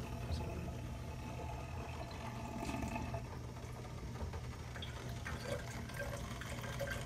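Condensed water from a distiller trickling steadily down into a collection bottle, a continuous soft liquid wash with a low hum beneath, moderately quiet and without talk.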